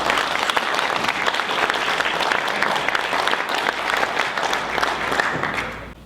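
An audience applauds to welcome a speaker at a talk on a high-speed rail project: dense, sustained clapping from a full room, steady and loud, fading slightly at the end.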